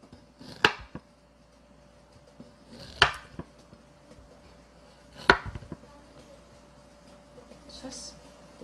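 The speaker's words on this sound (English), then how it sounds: "And ginger, just clean it and slice it." Ginger being sliced with a knife on a cutting board: three sharp, close chops spaced a couple of seconds apart, with faint handling noise between them and a light final cut near the end.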